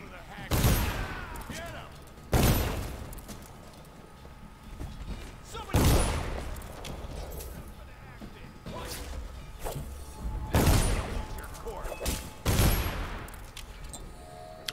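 Six loud, sharp pistol shots from the video game Dishonored ring out at irregular intervals, each a sudden broadband crack with a short decaying tail, over a low ambient game background.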